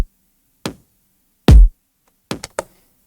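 Layered electronic kick drums in a future bass track thump in a sparse pattern: a single hit, a longer heavy boomy kick, then a quick cluster of three hits.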